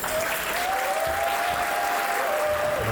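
Wedding guests applaud and cheer after a toast to the bride and groom, a thick, steady wash of clapping from a large crowd with a whistle rising above it throughout.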